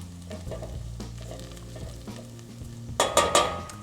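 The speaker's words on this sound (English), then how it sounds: "if you caramelize the onions" Onions cooking down in a pan for risotto give a quiet sizzle under soft stirring scrapes, with a louder burst of scraping and clatter toward the end.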